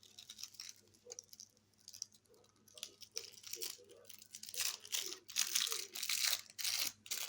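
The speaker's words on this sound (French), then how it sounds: "Voilà, vous les froissez bien comme ça." Sheets of transparent photo paper printed with butterfly wings on a laser printer are crumpled by hand, giving a run of crinkling, crackling rustles that grow louder and denser toward the end.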